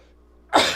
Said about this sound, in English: I'm having a sneeze attack here.